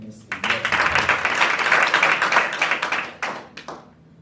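An audience at the launch of a national security association claps hands in a lively, dense burst of applause with some voices mixed in, which tapers off to a few scattered claps.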